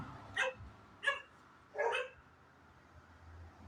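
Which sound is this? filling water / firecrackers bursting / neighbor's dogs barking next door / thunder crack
neighbor's dogs barking next door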